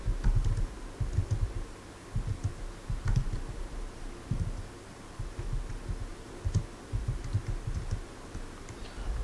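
Typing on a computer keyboard: steady, uneven bursts of soft key clicks go on throughout at close range, with no voices.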